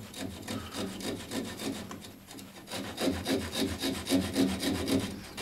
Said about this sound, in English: So this is the finer saw that I have, finest saw that I have.